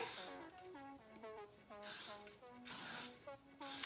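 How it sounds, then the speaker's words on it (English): Hairspray spritzed onto freshly deep-waved hair gives three short, breathy hissing bursts spaced about a second apart, close to the mic, while a voice talks underneath. "And then I'll just spritz it with a little hairspray."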